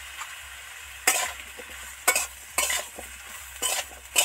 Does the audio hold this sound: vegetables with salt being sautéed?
yes